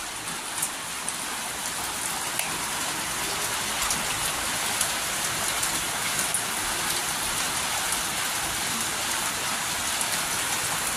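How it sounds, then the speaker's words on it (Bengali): Steady rain falls and patters on surfaces around a school building, a dense, even hiss that stays constant throughout with no voices. "কিরম বৃষ্টি পড়ে"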